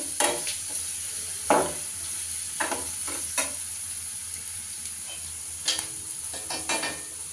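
Okra fries with onion in a pan, a steady sizzle broken by irregular scraping strokes of a spatula stirring the vegetables.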